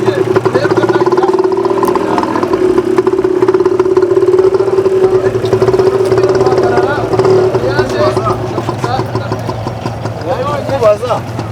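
A motorcycle engine runs steadily close by at idle, then rises slightly as it pulls away, with someone talking over it throughout.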